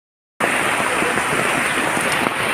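After a brief silence, steady rain begins over knee-deep floodwater in Kurippuzha, a constant close hiss of drops pattering on surfaces.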